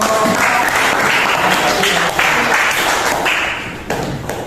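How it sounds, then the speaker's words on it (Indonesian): Classroom audience applauding after a student presentation, dense clapping that stays steady and then thins slightly toward the end, with no talk over it. "tepuk tangan dulu"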